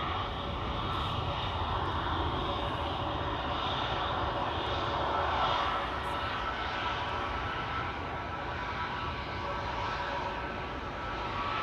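ITA Airways Airbus A320neo bound for Rome from Amsterdam Schiphol gives off a steady, moderately distant engine whine and rumble that swells slightly midway, with no speech.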